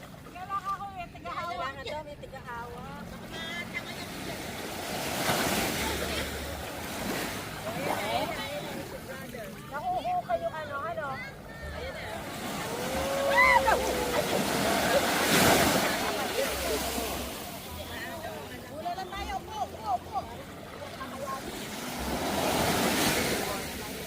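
Strong sea waves surge and wash around a small boat, with rushing water and wind buffeting the microphone throughout, rising in bursts, while people shout and talk over the surf.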